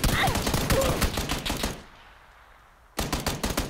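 Rapid bursts of gunfire from the PUBG video game crack loudly and repeatedly, break off into a short quiet pause, then resume in fast dense volleys.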